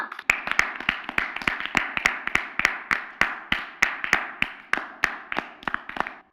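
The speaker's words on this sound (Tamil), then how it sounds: "இப்ப எல்லாரும் ஒரு தடவை ஜோரா கை தட்டுவோமா?" Children clap together at a church program for kids, about twenty sharp, evenly spaced claps in a brisk steady rhythm, loud and close, over a faint murmuring background.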